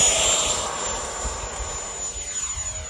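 An FMS Avanti S model jet takes off, its ducted-fan engine giving a loud, high, airy whine that starts strong and eases slightly as the plane pulls away. No voices are heard.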